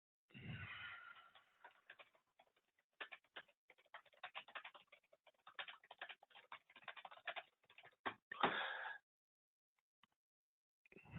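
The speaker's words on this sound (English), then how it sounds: "And there goes my typing again." Typing on a computer keyboard at a desk, bursts of quick, close key clicks with short pauses between, fairly quiet, ending with a louder flurry and a few isolated taps.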